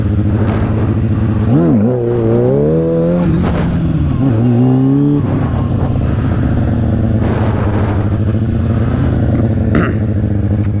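A stunt motorcycle engine runs loud and close in second gear, rising and falling through several revs over a steady idling drone, with no voices.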